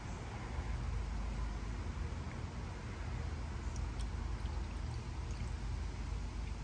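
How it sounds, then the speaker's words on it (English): Water poured into a cast iron bird bath outdoors, a steady, even splashing wash that holds at a constant level for several seconds with no talking. "we are pouring water into the bird bath and we're gonna see how it does."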